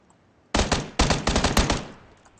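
Rapid gunfire in the video game PlayerUnknown's Battlegrounds, two loud bursts of fast automatic shots back to back, ringing briefly before fading out.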